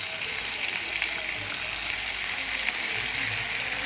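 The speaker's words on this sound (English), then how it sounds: "So we are going in with our finely chopped tomatoes." Capsicum, onions and chopped tomatoes fry in a pot with a constant dense sizzle that stays loud and even throughout, with faint stirring underneath.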